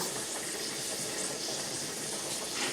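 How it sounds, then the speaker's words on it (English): A steady, broad hiss of escaping steam from a 1974 Presto pressure cooker building pressure while cooking pot roast, constant and moderately loud for the whole stretch, with no talking. "You can kind of hear that making that sizzling sound."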